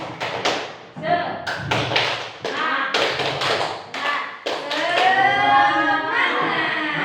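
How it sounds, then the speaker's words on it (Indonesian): A group of teachers at an elementary school session performs a patterned spirit clap, with sharp bursts of hand claps in an uneven rhythm and voices chanting along close by. "Tepuk semangat."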